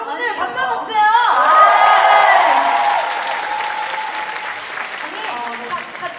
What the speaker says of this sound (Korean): 아, 여러분들 박수 한번 주세요.